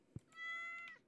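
A cat meows inside the video game Stardew Valley: a short tonal meow, clear and fairly loud, heard alone and preceded by a brief soft thump.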